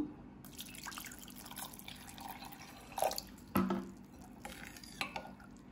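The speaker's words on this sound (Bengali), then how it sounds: "এর মধ্যে আমি একটু ঠান্ডা জল দিয়ে দিব" Cold water added to peeled, roasted mango pulp in a bowl for a summer sherbet, heard as soft trickling and dripping with a couple of louder splashy knocks of a utensil near the middle, close and fairly quiet.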